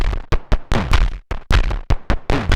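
Punchy Moog synthesizer notes stab in a quick, uneven rhythm, each burst bright and buzzy with short gaps between, played alone and up close.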